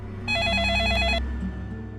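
A telephone rings once with a bright, warbling electronic trill lasting about a second as a call goes through to Versova police station, followed by a low steady hum.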